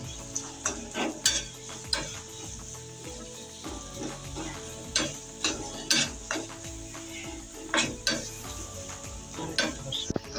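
Onions fry into crisp beresta with a paste in a pan for a beef white bhuna. A steady sizzle runs under repeated scraping and stirring strokes, with occasional metal clinks, close up and with no talking.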